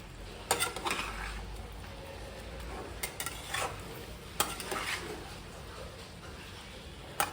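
Food stirred and mixed in a pan over a low gas flame, with soft scrapes and occasional knocks of the utensil against the pan above a faint sizzle, close but quiet and irregular.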